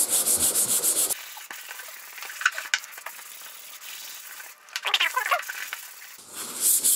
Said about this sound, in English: go over that with the finer sandpaper to create a smoother finish. This is 220 grit. I'm using a sanding block.